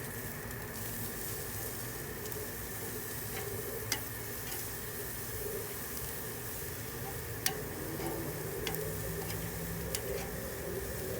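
Pork ribeye chops being flipped on a Weber charcoal grill: a steady, even sizzle of meat over hot coals, broken by a few sharp metallic ticks from the tongs.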